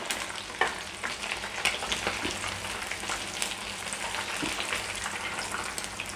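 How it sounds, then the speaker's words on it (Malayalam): Kerala-style fried chicken crisps in a pan with a dense, even sizzle close by, a few sharper pops rising out of the steady hiss and no speech. "ഇപ്പോൾ നമ്മുടെ ചിക്കൻ നല്ല മുരിഞ്ഞ് വന്നിട്ടുണ്ട്."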